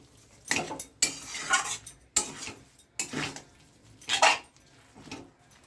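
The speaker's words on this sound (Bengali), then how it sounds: "এটাকে এবার ভালো করে নেড়ে চেড়ে মিশিয়ে দিচ্ছি" Cabbage dish being stirred in a pan after cinnamon powder goes in, with a spoon scraping and clanking against the metal in repeated irregular bursts, close and fairly loud, and no talking.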